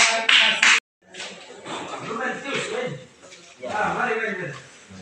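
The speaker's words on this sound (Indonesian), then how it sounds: "Oke, kasih tepuk tangan untuk Ron" Classroom applause from students, a sharp burst of clapping that cuts off, followed by a teacher talking over scattered chatter.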